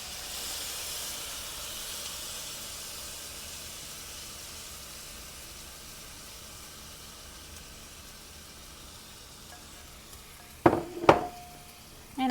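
Steady hiss of a hot pan for most of the stretch, then a few loud bursts near the end as homemade sauce for Thai chicken lettuce wraps hits the pan and sizzles.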